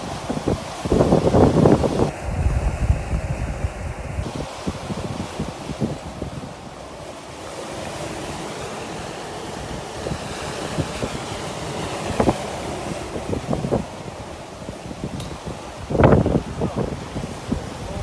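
Strong wind of 25 to 30 knots buffets a sailboat crossing the Atlantic from Tenerife at 8 to 10 knots under reefed sails, with roaring gusts, rushing water and microphone wind noise swelling and fading throughout.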